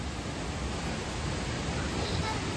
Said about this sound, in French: Il y a de la bonne cascade, hein.